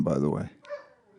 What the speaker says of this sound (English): That's our dog barking in the background